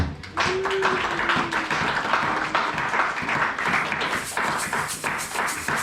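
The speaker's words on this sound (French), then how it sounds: "On acclame pour le roi des rois" Church congregation applauding together in sustained, dense clapping that starts abruptly and keeps going at an even loudness, with a faint held tone near the start.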